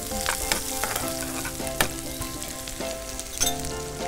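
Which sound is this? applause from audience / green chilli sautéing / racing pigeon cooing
green chilli sautéing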